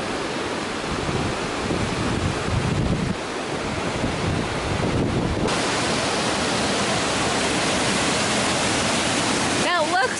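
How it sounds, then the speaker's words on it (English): A waterfall in New Zealand sends up a steady, loud, broadband rush of falling water. Wind buffets the microphone, and a voice comes in briefly near the end. "Oh, there's a waterfall."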